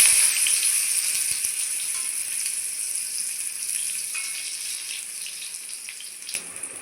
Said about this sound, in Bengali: এখন আমি কচুগুলো ভেজে নেব।